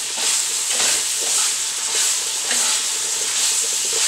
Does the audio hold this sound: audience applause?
no